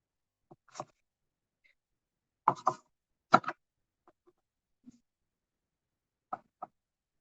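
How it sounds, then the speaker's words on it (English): A rubber stamp pressed onto paper for a card with a bear and bees, heard as a few short, quiet taps and thumps spaced out over several seconds in an otherwise silent room. "we're going to do a little bit of stamping"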